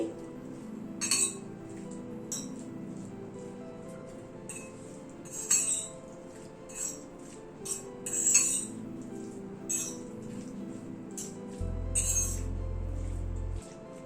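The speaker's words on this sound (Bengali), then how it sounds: "সবগুলোকে একবার একটু মিশিয়ে নিচ্ছি" A utensil clinks against a bowl in scattered taps while egg salad with pepper, oregano and chopped coriander is tossed, light clinks spaced irregularly over quiet background.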